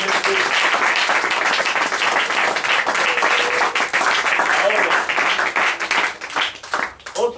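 A church congregation claps and applauds during a sermon, a thick continuous wash of hands that thins and turns more scattered near the end.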